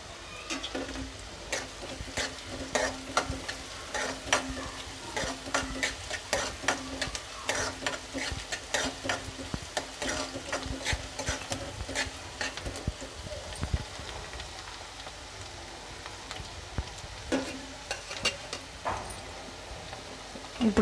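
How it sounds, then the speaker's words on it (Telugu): Sliced onions frying lightly in a pan for pepper chilli chicken give a steady soft sizzle, broken by frequent stirring clicks and scrapes at close range, with no voices. "ఒకసారి ఆనియన్స్ ఇట్లా లైట్ గా దొరగా యాగించి అప్పుడు చిల్లీస్ వేసుకోవాలన్నమాట"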